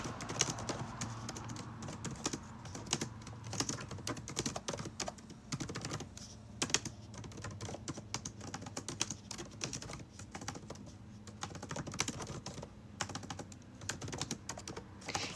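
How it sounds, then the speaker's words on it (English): Fast, uneven clicking of keys on a keyboard, steady and fairly close throughout, with scattered sharper taps and no talking over it. "You tell I'm not used to typing on this anymore?"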